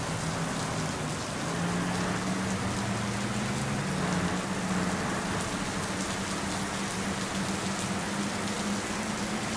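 Steady rain falling outside the back of a house, an even close patter and hiss with a faint low hum underneath, no voices.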